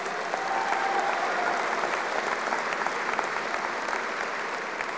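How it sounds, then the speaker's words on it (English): A crowd at the grand opening of a light rail line applauds, steady dense clapping from many people lasting several seconds at moderate distance, with no talking over it. "And they deserve a big round of applause."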